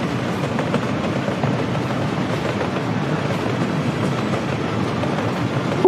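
A train runs steadily along the rails in Workers & Resources: Soviet Republic, a continuous rumbling clatter at close range with no talking.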